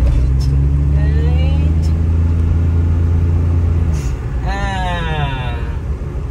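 A Perodua Kancil L200 with a freshly restored engine runs on a test drive, a loud steady low rumble with rising revs and road noise, and a voice cuts in briefly near the end.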